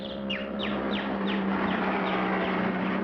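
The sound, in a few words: bird making noise on a children's TV show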